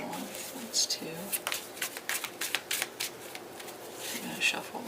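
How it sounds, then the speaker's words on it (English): Tarot cards are shuffled by hand in quick, crisp riffling bursts and soft slaps, recorded close and fairly quiet, with a person speaking softly over the shuffling. "I'm going to shuffle one more time."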